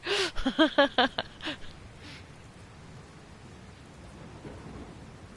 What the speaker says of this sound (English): I love you can see the raindrops falling on the water.